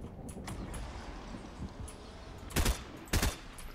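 Gunshots in the video game Fortnite crack out as two loud, sharp bursts close together near the end, over low background noise, with no talk.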